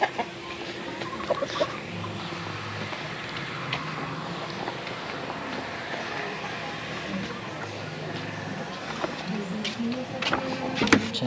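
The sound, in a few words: chickens clucking on a farm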